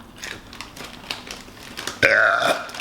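One loud, drawn-out human burp after a spicy meal comes near the end, following light tapping and clicking sounds.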